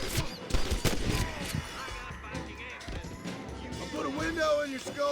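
Gunfire in the video game Red Dead Redemption during a shootout mission in Armadillo, a rapid burst of sharp shots and cracks packed into the first seconds, then scattered impacts under game noise and voices.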